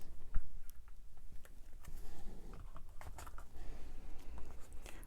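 Board game cards from Dungeon Degenerates being shuffled by hand on a tabletop: close, dry flicking and tapping clicks in irregular bursts over five seconds, with scattered louder snaps and no talking.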